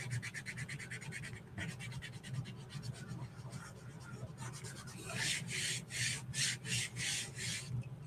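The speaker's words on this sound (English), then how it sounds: "So I'm going to really burnish good." A chalk transfer stencil is burnished down onto a paper bag sign with firm, close rubbing strokes, first a fast fine scratching rhythm, then louder, broader back-and-forth swipes near the end, with no talking.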